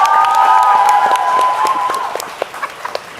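Studio audience clapping and cheering on a Thai talk show, a loud continuous wash of applause that tapers off toward the end, with a few scattered claps trailing.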